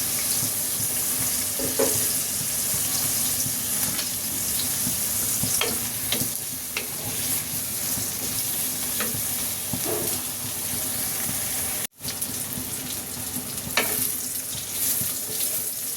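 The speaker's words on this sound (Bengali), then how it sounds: "এটাকে আমি একটু ভেজে নেব, লবণ ছাড়াই একটু ভেজে নেব আগে" Sliced eggplant frying in a pan without salt, a continuous sizzle and hiss with intermittent stirring clinks and scrapes, fairly close and with no voices over it.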